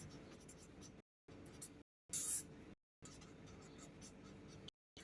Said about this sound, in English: write down all the numbers